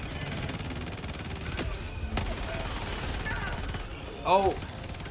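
A sentry gun fires in the video game Helldivers 2, a rapid stream of gunfire running under a player's short shout, with a brief louder burst of action near the end.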